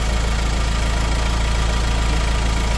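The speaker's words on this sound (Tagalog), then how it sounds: "Lakas po ng tunog niya. So isa po siguro itong fan motor" A loud electric fan motor runs in a 2024 Ford Ranger XL 4x4, giving a steady, close, droning hum with a low rhythmic pulse and no talking.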